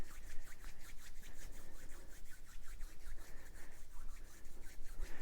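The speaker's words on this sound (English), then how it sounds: "Now if something's really stuck, you can start doing this fire stick rubbing." Quick, steady rubbing for the fire stick rubbing Kundalini Reiki clearing technique: a fast, even, rhythmic swishing of hands or a stick, close and fairly quiet, with no talking.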